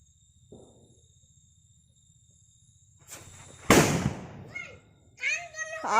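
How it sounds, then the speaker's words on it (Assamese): Lakshmi brand firecrackers set off during Kati Bihu, one sharp loud burst followed by a crackling tail and smaller pops, with voices talking around it. "তই এতিয়া লক্ষী ফটকা এইটো পোৱালিটোৱে দিছে ফুটাবলৈ বুলি"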